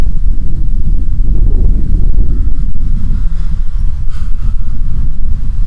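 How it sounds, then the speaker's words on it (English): Gusting wind at an outdoor baseball game roars steadily and loudly, buffeting the microphone with a low, continuous rumble throughout and no talk. "I think with that wind gusting, it was giving Ray a little bit of a fit"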